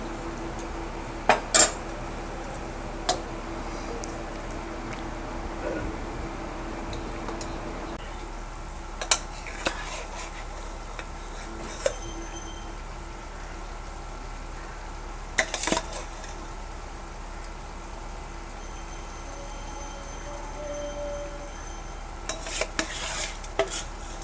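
Hilsa fish going into a pot of boiling rice, with a spoon stirring and clinking against the metal pot in sharp intermittent taps over a faint steady bubbling.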